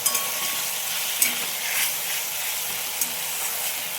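Spice paste frying in oil for an aar fish curry crackles loudly and steadily, with a few sharp spoon knocks against the pan, and nobody speaking.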